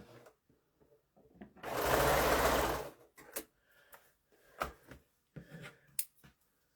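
A sewing machine stitches quilt fabric in one loud, steady burst of about a second and a half, followed by quiet rustling and handling of fabric.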